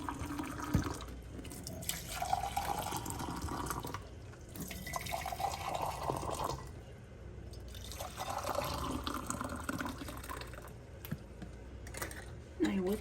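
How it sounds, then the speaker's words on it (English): Boiling water is poured over glass jars being prepared for cucumbers in mustard, a steady rushing splash with a few drips and clinks that runs almost the whole time, and a voice may speak faintly underneath. "So what I do is I pour some boiling water"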